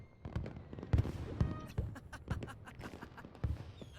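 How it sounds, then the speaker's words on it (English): Festival fireworks in the MapleStory video game pop and crackle in a quick irregular series of bursts, several louder booms standing out over a busy game-audio background. "those are fireworks from the festival."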